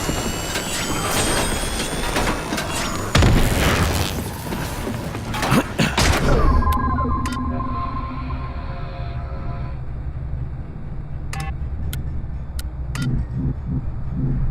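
A grenade detonates in the shooter The Bureau: XCOM Declassified, a loud broadband blast with crashing debris amid game noise, followed by a muffled, ringing lull with scattered sharp clicks and distant thuds.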